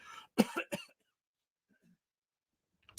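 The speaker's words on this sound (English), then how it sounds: "Excuse me while I sneeze or cough or whatever is coming up here." A few sharp coughs in quick succession up close, followed by near silence with a faint breath at the end.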